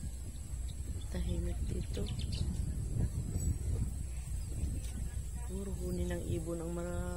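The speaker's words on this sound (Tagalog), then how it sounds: "Sarap pakinggan ang huli ng ibon." Birds chirp and sing in quiet provincial countryside, bright repeated calls rising clearly near the end over a constant rustling background, with scattered quieter chirps earlier.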